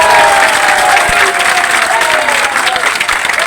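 A dense crowd claps steadily at an outdoor protest rally against smart meters during a town shutdown in Phalodi. The applause is loud and continuous throughout, with a faint murmur of voices mixed in.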